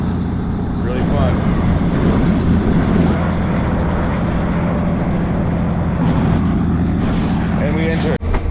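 Steady loud rotor and engine roar of a helicopter during a ride over Tennessee, continuous throughout with a brief dip near the end, while people talk over it.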